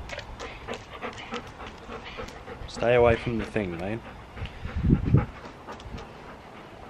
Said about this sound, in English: She's panting heavily.